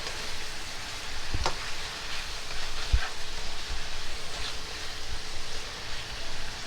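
Cabbage and noodles fry over steady heat with a soft, continuous sizzle. A couple of dull knocks come from stirring in the pan, and the whole sound stays fairly quiet and even throughout.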